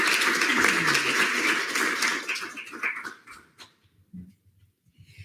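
A student government senate audience claps for a candidate, producing a dense, bright burst of applause that gradually thins and fades out over about three seconds. A few scattered faint sounds follow.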